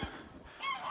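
A goose on a small farm in Maine gives a couple of short, nasal honks, close and fairly clear, in a snowy late-winter setting.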